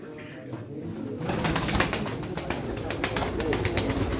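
Pigeons cooing at a pigeon auction in Çorum, a dense chorus of birds close by that swells after the first second and continues steadily throughout.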